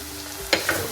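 Chicken mince with ghee, coriander and mint being stirred in a pan for samosa filling, a brief close sizzle with a couple of quick scraping stir sounds.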